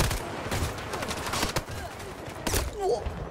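Rapid bursts of automatic gunfire crackle from a weapon in a Battlefield video game, several sharp volleys in quick succession, with a player talking over them.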